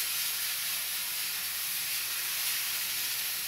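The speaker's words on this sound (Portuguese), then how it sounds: "a minha panela de pressão tá fazendo barulho" Loud, steady hiss of steam escaping under pressure from a pressure cooker, a continuous bright rushing noise with no breaks.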